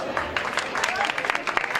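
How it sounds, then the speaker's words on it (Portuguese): Audience applause at a live music performance by a jazz trio with alto sax and guitar, opening a film festival presentation in Jarandilla de la Vera; steady, dense clapping of moderate loudness, continuous throughout. "Un aplauso."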